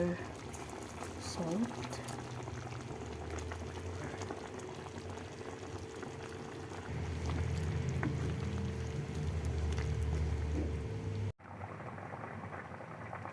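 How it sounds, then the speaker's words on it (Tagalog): Chicken curry simmers in a pot, giving a steady low bubbling and hissing that swells louder near the end before cutting off abruptly, with a person talking briefly over it. "Pakulaan lang natin siya."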